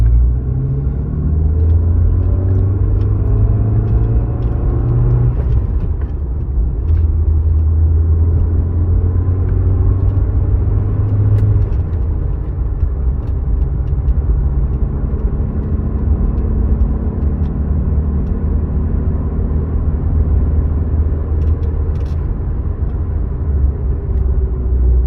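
A Mercedes W201 190E 16v engine pulls from low RPM in a tall gear, a deep continuous rumble that slowly climbs in pitch, heard steadily from inside the car.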